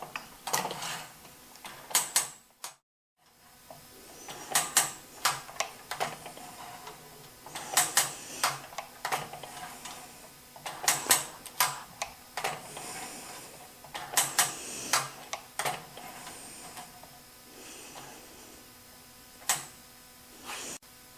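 A Sabretooth ProSetter blade setter sets saw teeth one by one, producing a steady rhythm of sharp metallic clicks and clunks with mechanical ratcheting, close and distinct, and a short pause early on, without speech.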